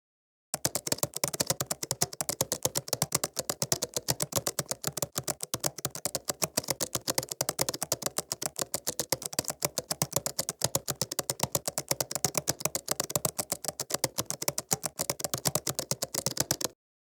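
Fast, continuous typing on a computer keyboard as a DAX formula is entered, dense rapid key clicks running steadily for about sixteen seconds, close and clear with no talking.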